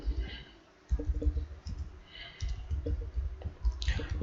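During a WordPress installation, a computer mouse makes a series of soft, close clicks over quiet room noise.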